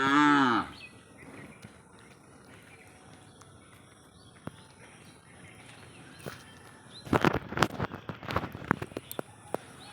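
Cattle near a village home give a loud, close moo at the start, then quieter outdoor background follows with scattered clattering knocks and footsteps toward the end.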